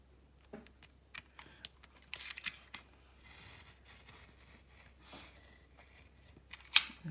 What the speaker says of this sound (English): you try to cut it as closely to the actual picture itself as possible